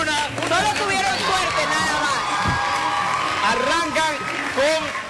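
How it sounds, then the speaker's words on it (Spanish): Studio audience on a Spanish-language morning TV show applauding and cheering for the winning team, steady crowd noise with whoops and chatter throughout, mixed with voices and background music. "Fuerte los aplausos, Luna."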